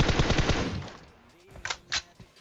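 Rapid automatic gunfire from PUBG Mobile rattles in a dense, loud burst, then tapers off into a few separate sharp shots.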